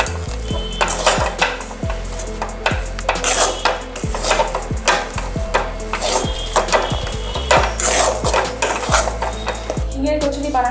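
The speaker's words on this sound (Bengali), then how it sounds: "এবার আমরা ভালো করে মিশিয়ে নেব।" A spoon mixes roasted cumin powder into hing kachori filling in a bowl, giving a brisk, rhythmic run of scraping strokes and sharp clinks against the bowl, with no voices.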